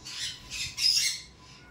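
Pet birds, including a red-collared lory and cockatiels, give three harsh, close squawks in quick succession with short gaps between them.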